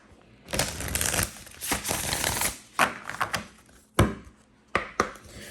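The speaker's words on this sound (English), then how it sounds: "I do want to shuffle these really quickly." Rapid riffling and snapping of a deck of oracle cards being shuffled, a long burst followed by several short sharp flicks, close and fairly loud.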